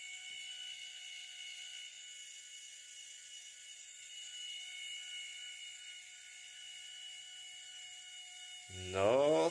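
An electric linear actuator rated 1500N with 450 mm of stroke hoists a 10 kg load upward. It gives a faint, steady whirring hum throughout, and a louder mechanical burst comes near the end.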